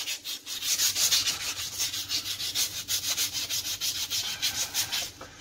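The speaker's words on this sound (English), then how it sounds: "I just take the emery cloth and work my way around nice and easy" Emery cloth rubs around a hydraulic brake spindle in steady back-and-forth strokes, a close, gritty abrasive scrubbing that carries on alone without pause.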